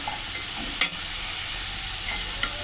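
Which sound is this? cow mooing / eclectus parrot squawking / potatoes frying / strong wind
potatoes frying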